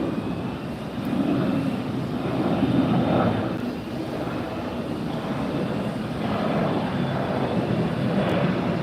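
A Boeing 767 at Los Angeles International Airport gives a broad, steady jet-engine roar that swells slightly and then holds, distant but filling the background for several seconds.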